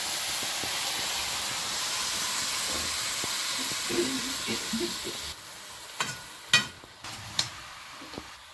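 Pumpkin greens and tomato frying in a pan over a wood-fired clay stove, a soft steady sizzle and hiss that thins out, then a few sharp clicks and knocks near the end.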